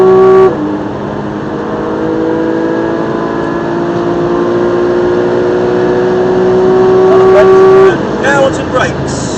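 Race car engine at Silverstone circuit, holding a loud, steady high-pitched note that climbs gradually under acceleration, then drops sharply as the throttle comes off near the end, close and dominant throughout.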